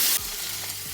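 Mustard seeds and curry leaves hit a hot pan with a loud initial burst, then keep up a dense, steady sizzle and crackle close by for under a second, with no voices.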